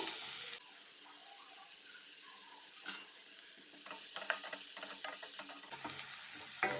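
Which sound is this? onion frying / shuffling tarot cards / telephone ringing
onion frying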